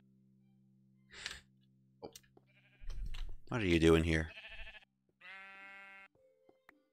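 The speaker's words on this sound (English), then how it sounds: "Oh, there's more sheep in here." Minecraft sheep bleats, several short wavering cries near and clear, mixed with someone talking.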